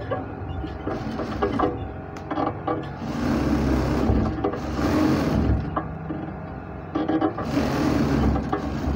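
A sewing machine runs a double stitch along a trouser seam from crotch point onward, a close, steady mechanical whir in bursts with brief pauses and fabric handling between runs.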